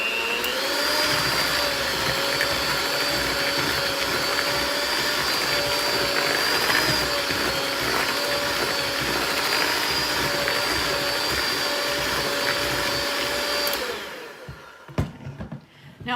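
Electric mixer beating peanut butter cookie dough, a steady high motor whine with a droning hum that runs unbroken for about fourteen seconds, then switches off, followed by a few faint clunks.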